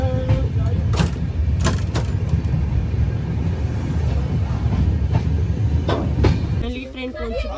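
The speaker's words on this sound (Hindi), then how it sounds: "ट्रेन पहुंच चुकी है कटरा" Train pulling into Katra railway station: steady rumbling rail noise with rhythmic clicks and clanks from the wheels throughout, loud and close, before the rumble drops and a mix of voices and station noise takes over at the end.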